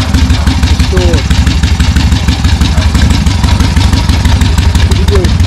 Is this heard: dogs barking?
no